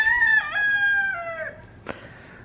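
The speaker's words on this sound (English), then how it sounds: "Roosters are all crowing like crazy." A homestead rooster gives one clear, near crow that bends in pitch and trails off, followed by a brief faint squawk.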